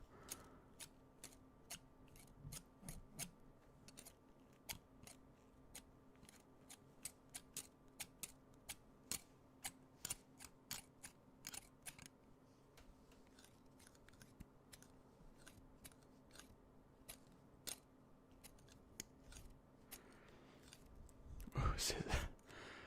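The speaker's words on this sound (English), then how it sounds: "How do these blunt scissors sound?" Blunt scissors snipping in a quiet ASMR setting, a long series of crisp, close, separate cuts at an uneven rhythm, with a louder rustling burst near the end.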